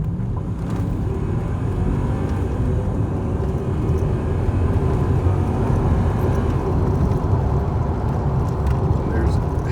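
Car accelerating hard from the top of a hill up to 80 mph, a steady low engine and road drone heard from inside the cabin with little change in level.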